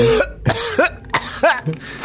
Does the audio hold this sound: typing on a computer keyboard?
no